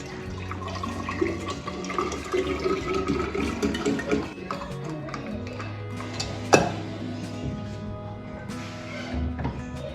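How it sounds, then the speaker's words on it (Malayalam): Water pours into an empty jug in a home kitchen, a close, continuous running stream with clinks and knocks of the vessel and one sharp clatter partway through. "ഇവിടെ കാലിയായിരിക്കുന്ന ജഗ്ഗിൽ കുറച്ച് വെള്ളം ഫില്ല് ചെയ്ത് വെക്കാം"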